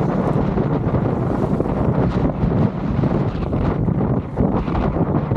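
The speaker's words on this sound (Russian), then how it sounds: "Очень сильный встречный ветер, тяжело ехать" Strong headwind roars and buffets the microphone in steady gusts while cycling in the Philippines, loud and close, with no voices.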